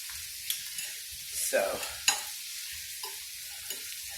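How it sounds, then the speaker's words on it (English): Chopped mushrooms and onions sauteing in a pan, a soft low sizzle with a few scattered stirring scrapes and one or two sharper clacks, close by, with no talking. "So while this is sauteing"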